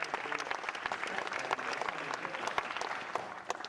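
A talk audience applauds continuously, a dense, even patter of many hands clapping at steady loudness throughout, with no voices standing out.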